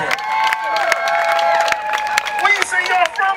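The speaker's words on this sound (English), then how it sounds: "Give him a round of applause." Audience applause and cheering at a Juneteenth community celebration, with a crowd clapping and whooping while people's voices carry over the top.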